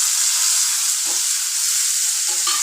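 Whole small bitter gourds frying in hot oil give a steady, close, loud sizzle throughout, with a couple of brief stirring scrapes near the middle and end.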